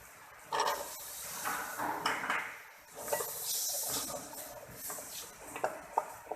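Potatoes tossed into a hot pan with sautéed peppers, a hissing, sputtering sizzle that swells and fades with occasional utensil clicks, close and fairly loud with no talk.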